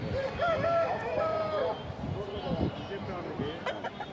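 A rooster crows once amid a lively crowd of people talking at a large poultry market in Nallapadu, Guntur, the call rising over the chatter before fading.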